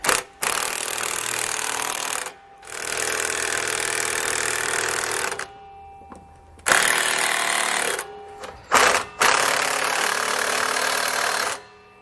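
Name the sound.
tightening anti-sway bar bracket hardware with power tool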